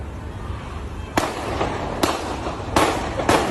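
Gunshots fired by a security guard in New Orleans, four sharp cracks spaced unevenly over a few seconds, recorded on a noisy device and sounding somewhat distant.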